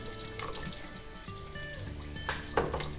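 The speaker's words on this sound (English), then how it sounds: "You run it under really hot water." Very hot water runs from a kitchen tap over a nonstick bar pan, a steady close hiss and splash with a few louder spatters, no voices.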